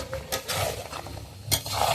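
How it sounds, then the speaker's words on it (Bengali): Duck meat and potatoes being sautéed and stirred in a pan, with steady scraping and stirring strokes over a low sizzle and a couple of sharper utensil knocks, close and moderately loud, no talking. "এবার আমি একটু ভালোভাবে কষিয়ে নেবো, নিয়ে জল দেবো"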